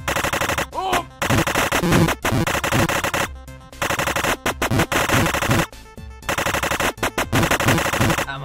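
Rapid machine gun fire from the video game Super Amazing Wagon Adventure Turbo rattles almost continuously in loud bursts, separated by brief gaps, with a short exclamation from a voice over it.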